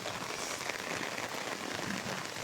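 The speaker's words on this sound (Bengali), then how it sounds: "পরিমাণে বৃষ্টি হচ্ছে" Steady rain patters on surfaces, a soft continuous hiss of drops with no voices.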